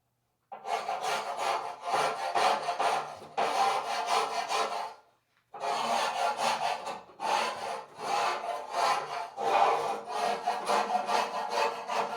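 Steady back-and-forth scraping works old paint off a Wheel Horse snow blade ahead of repainting, close and moderately loud in long rhythmic passes with one short pause partway through.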